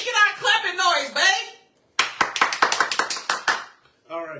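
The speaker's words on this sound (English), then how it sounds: "we need to get our clapping noise" Hands clap about a dozen times in a quick, close, sharp burst, with talking before and after.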